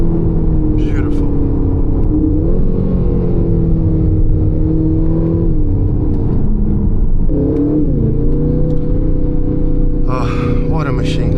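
A 2025 Aston Martin Vantage's twin-turbo V8 drones loudly on an Alpine mountain pass, a steady engine rumble with gear changes and rising revs, while someone talks over it.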